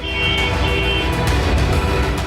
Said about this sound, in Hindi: 100 फॉर्च्यूनर, 500 गाड़ियों का काफिला है।